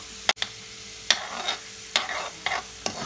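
Garlic sizzles and browns in hot oil for a radish-greens curry while a utensil stirs the pan in repeated scraping strokes, close up, with no talking.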